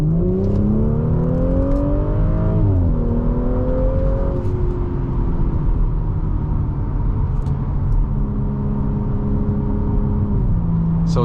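A 2022 Audi S4 Premium Plus accelerates in dynamic mode, its engine note climbing through gear shifts with a steady rumble and road noise heard from inside the cabin.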